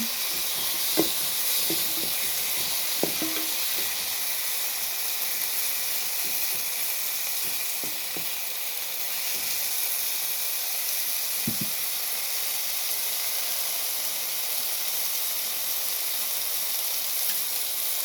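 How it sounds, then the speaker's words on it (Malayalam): Tomatoes sautéing in a pan give a steady, soft sizzling hiss that runs evenly throughout, with a few faint clicks and taps of utensils and no talking. "തക്കാളി ഒന്ന് വഴന്ന് വരട്ടെ."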